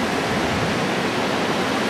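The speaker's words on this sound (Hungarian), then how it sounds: "És hát arra meg a vízesés." Waterfall in a rocky Norwegian valley, a steady broadband roar of falling water filling the whole stretch without pause, loud and continuous with no voices.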